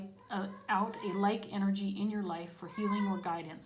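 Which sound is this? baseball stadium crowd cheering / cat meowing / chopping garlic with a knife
cat meowing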